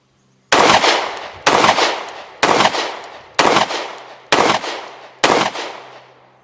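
Six sharp, evenly spaced shots from an Alpha Foxtrot 1911 S15 Bob Gen 2 9mm pistol, each a loud close crack with a short decaying tail, fired at a steady pace of roughly one per second.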